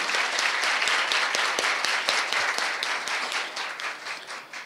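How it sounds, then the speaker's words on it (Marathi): An audience at a memorial lecture applauds loudly, a dense sustained burst of many hands clapping that gradually thins and fades toward the end, with no talk over it. "एकदा जोरदार टाळ्या होऊ द्या मॅडमसाठी"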